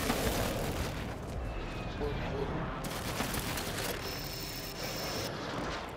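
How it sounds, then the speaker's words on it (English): Precision airstrike blasts in a military shooter game, heard as a sustained rumbling roar of distant explosions and crackling fire, moderately loud and steady, with a voice talking over it. "Friendly precision airstrike inbound"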